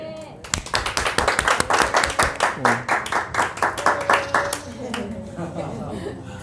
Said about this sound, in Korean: 함께 박수로 찬양했으면 좋겠습니다